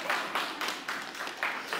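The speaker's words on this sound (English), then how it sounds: "Round of applause for Sophie." A church congregation gives a round of applause for Sophie, steady close clapping from a group swelling in short waves.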